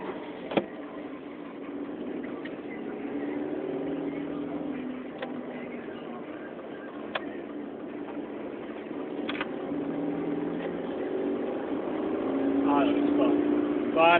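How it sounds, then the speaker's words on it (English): A Ford Escort with a drilled exhaust idles and revs inside a tunnel, its engine a steady low rumble swelling in a few longer rises, echoing in the enclosed space, with a voice talking over it. "that little mini engine revving session in a tunnel"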